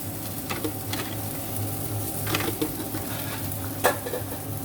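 Okra fries in a pan with a steady sizzle, while a spoon stirs it in several scraping strokes and a sharper knock near the end, up close.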